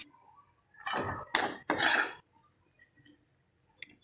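A dry paneer vegetable dish gets scooped from the pan onto a plate, with a couple of close metallic scrapes and clinks of spoon against cookware, then near silence apart from a faint tap.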